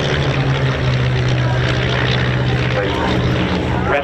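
A pair of de Havilland Chipmunk propeller aircraft fly past at an airshow, giving a steady, fairly loud engine drone with a low hum throughout, while an announcer talks over it.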